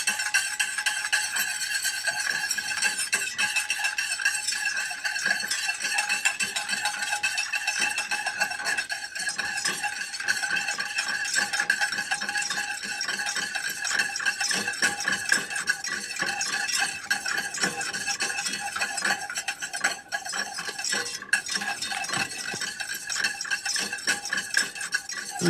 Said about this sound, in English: start whisking in some cold butter here.